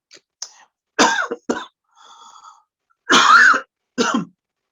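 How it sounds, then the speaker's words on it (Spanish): A series of loud, close coughs in separate bursts, a couple of throat-clearing sounds between them, with no talking. "sepan disculpar la tos"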